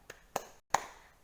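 Three crisp hand claps ring out in a classroom religious lesson, keeping time to the Asmaul Husna clap chant. The claps are quiet and spaced unevenly, with a brief silent gap before the last one.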